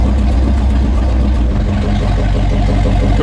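Barn-find Lincoln car engine runs loud and close while reversing, a rough low rumble with uneven revving throughout the short stretch.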